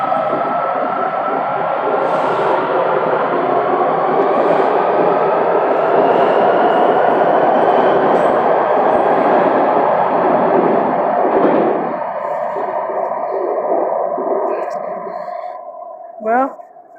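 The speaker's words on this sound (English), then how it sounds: "And here is the Shady Grove Limited. Red line train to Shady Grove." A Washington Metro Red Line train bound for Shady Grove runs at Cleveland Park station, a loud, sustained rumble with a droning whine that fades near the end, followed by a short rising and falling tone.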